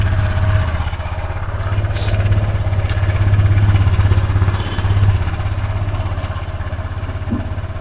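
A motorcycle engine idles close by with a steady low thrum that swells and eases slightly, plus a few faint clicks and no clear talk.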